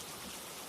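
Steady rain falling, a dense, even hiss of drops on a surface, close and continuous without any voices.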